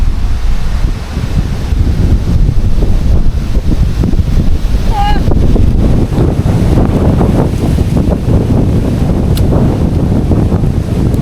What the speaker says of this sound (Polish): No bo wieje.